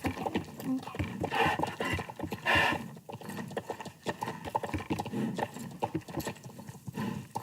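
Horse hooves clip-clopping in a steady cantering rhythm, a video game sound effect, with a brief whinny-like cry mixed in; loud and close throughout, with no talk.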